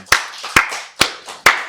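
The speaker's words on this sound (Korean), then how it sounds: "박수로 하나님께 영광 돌리겠습니다." A congregation claps during a Wednesday worship service at a Full Gospel church: four loud, sharp claps in an even, steady rhythm, close and with no talking.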